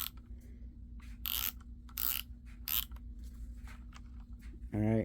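A Milwaukee M12 extended-reach cordless ratchet buzzes through several short bursts of ratcheting separated by pauses, close and loud, with a steady low motor hum underneath.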